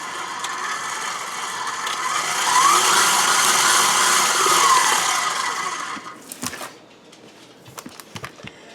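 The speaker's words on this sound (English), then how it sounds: "I just mix this up into a slurry on the whisk attachment" A stand mixer with its whisk attachment hums steadily, rising and falling as it mixes a yeast, sugar and flour slurry, then stops, leaving a few light clicks and knocks.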